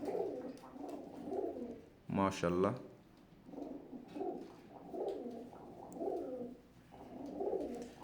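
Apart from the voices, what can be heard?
Teddy breeder pigeons cooing in their coop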